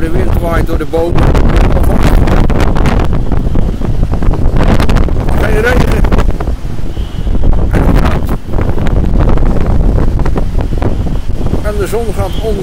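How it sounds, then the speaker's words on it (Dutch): Strong gusty wind in Cape Town roars and buffets close to the microphone without letup during a storm, while a person talks over it. "Hoor de wind waait door de bomen"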